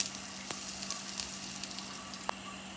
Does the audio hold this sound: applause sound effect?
no